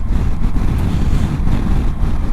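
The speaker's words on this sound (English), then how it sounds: "it's quite windy today as well" Strong gusting wind buffets the microphone during a motorcycle ride on a Triumph Tiger 800, a loud continuous low roar with uneven surges throughout.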